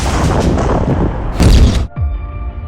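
An explosion strikes an Israeli Merkava tank during a Hamas attack: a loud, dense roar of blast and rumble builds to a heavy boom, then cuts to a quieter hum.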